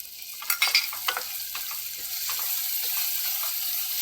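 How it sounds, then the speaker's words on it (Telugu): Onions with green chilli slices and curry leaves frying in a pan for a mushroom curry, with steady close sizzling and a few sharp crackles and stirring scrapes early on. "ఉల్లిపాయలు వేగుతున్నాయి కదండి"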